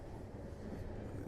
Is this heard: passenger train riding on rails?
yes